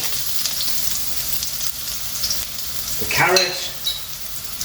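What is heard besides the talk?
vegetables sizzling in a frying pan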